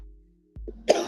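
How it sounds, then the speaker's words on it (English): A single cough bursts out after a quiet stretch, loud and close, preceded by a softer throat sound and low hum. "You hear that cough?"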